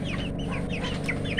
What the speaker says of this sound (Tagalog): Yan yung kasamahan, yung ating manok doon sa loob.